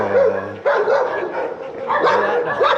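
On a street in Cuenca, Ecuador, a black dog lets out a quick run of loud barks and yips at close range.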